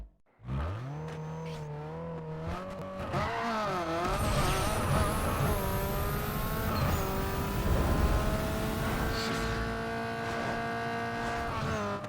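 Acura RSX with a 2.0L four-cylinder on a drag run in Need For Speed Underground 2: a revving idle, then a hard launch into loud, sustained acceleration with rising engine whine and quick gear shifts, close and continuous throughout.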